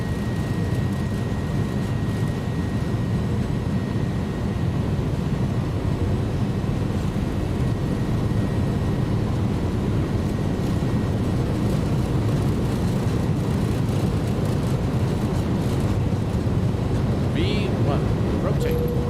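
Airbus A310 (iniBuilds) in X-Plane 11 rolling down the runway for takeoff: a steady, loud jet-engine roar with a low rumble runs unbroken throughout.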